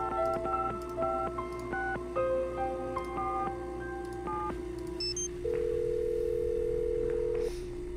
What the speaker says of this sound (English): Oh, 555 Judo. Let's dial that one too.